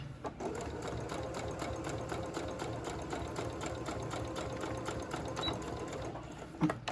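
A sewing machine running a forward-and-reverse stitch, making a steady rapid mechanical clatter close by with a few brief pauses and clicks, at a fairly low level.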